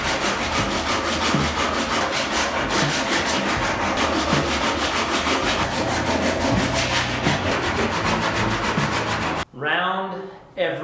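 Hand sanding a homemade wooden climbing hold with sandpaper, rapid rhythmic back-and-forth scraping strokes, loud and close, ending with a brief voice.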